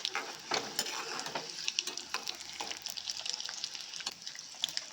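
Mustard seeds, chana dal and urad dal frying in oil in a pan for masala chitranna, a soft continuous crackle and hiss with scattered pops, close but faint.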